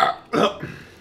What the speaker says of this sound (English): that doesn't seem like something you want to burp up